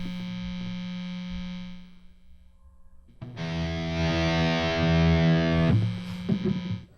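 Electric guitar through a Sonicake Black Hammer pedal with the gain turned all the way up: a hissy held note fades, then a loud, fuzzy distorted chord rings out for a few seconds before it is cut off.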